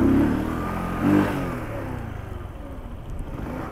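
A Sanya X1000 motorcycle engine revs in two short bursts, swelling and falling back, then settles into a steady mid-pitched idle running close by.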